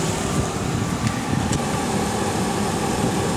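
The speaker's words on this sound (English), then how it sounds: "heaters are definitely blowing nice and warm" Steady broadband whoosh of a Land Rover Discovery's heater fan blowing hot air inside the cabin after the cooling system was bled, a constant close rushing airflow with a faint low engine hum beneath and no talk.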